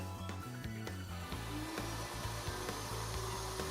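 A router cuts a wooden socket board on a router table with a Leigh B975 box joint jig, giving a loud, steady high whine with rhythmic shifts in pitch as the board moves in and out of the template.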